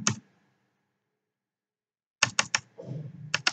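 Computer keyboard keys typing HTML code, heard as one sharp tap, a long silence, then a quick cluster of crisp close clicks with a softer rattle among them.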